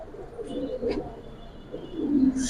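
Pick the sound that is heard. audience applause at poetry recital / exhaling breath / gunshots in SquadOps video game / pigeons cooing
pigeons cooing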